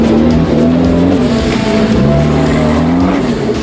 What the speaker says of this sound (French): Des belles autos comme engluées dans cette neige